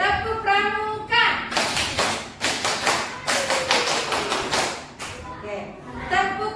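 Children in a classroom perform the scout clap, a rhythmic pattern of sharp group claps and thumps in quick bursts, with a teacher's voice and children's chanting before and after.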